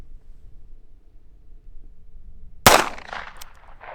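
A single sharp gunshot from a Heritage Barkeep revolver firing Hornady Critical Defense ammunition, loud and close, cracking out after a stretch of quiet low background noise and then ringing away briefly.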